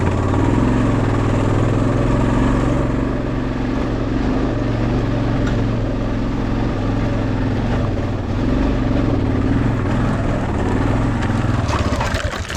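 A motorcycle engine labors up a hill on a rough road, a steady loud mid-pitched drone with slight rises and dips under constant wind and road noise.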